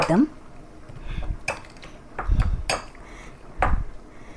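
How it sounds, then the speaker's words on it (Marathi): A pav bhaji masher crushes tomatoes in a pot, producing a few separate dull thumps and metallic clatters about a second apart, close up with no voices. "चला पावभाजीच्या आपल्या ह्या दांड्याने असं क्रश करून घ्यायचं आहे टमाटर."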